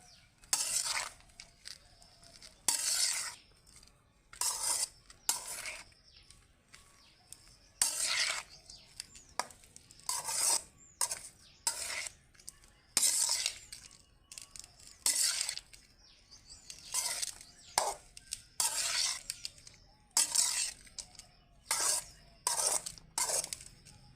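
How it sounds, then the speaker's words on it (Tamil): A spoon stirs rice with coconut oil in a pan for a lunch box dish, scraping in repeated bursts of varying length with short pauses between them, close and fairly quiet. "நல்லா கிளறிக்கணுங்க"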